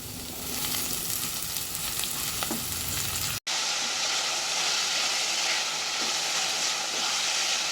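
Tomatoes fry in a hot pan as the base for a dhaba-style rajma. A dense, close sizzle runs steadily, broken by a brief dropout partway through.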